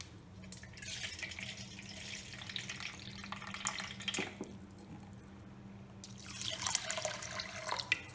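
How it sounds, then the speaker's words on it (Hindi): Rice being washed and gently rubbed by hand in water, a steady wet swishing and sloshing with a tap-like rush that swells near the start and again near the end, close up and without voices. "हल्के हल्के हाथों से रगड़ते हुए चावल को साफ करें।"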